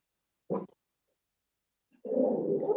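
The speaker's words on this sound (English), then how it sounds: "Sorry, my dogs are barking." Dogs at home make a single short, gruff bark, then after a pause a longer low, rough growling bark that carries on, muffled and at moderate volume.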